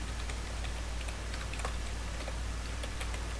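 Computer keyboard typing during a Linux localhost setup, a quiet steady run of light key clicks at close range with no talking.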